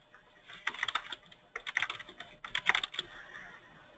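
Fingers type on a computer keyboard while information is entered into a real estate MLS comparative market analysis, in quick bursts of clicking keys separated by short pauses, close and moderately quiet, with no talk.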